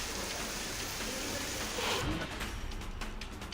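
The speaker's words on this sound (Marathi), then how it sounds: "पुणे शहराला ऐन उन्हाळ्यात मुसळधार पावसानं झोडपून काढलं।" Heavy pre-monsoon rain pours over a city in the height of summer, a dense, steady hiss of downpour that swells briefly midway, heard fairly faint and without speech.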